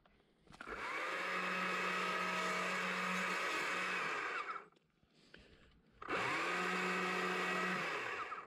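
A chainsaw carving a small wooden bear, two loud sustained bursts of high revving cutting, about four seconds then a short pause and another run, close with no talking.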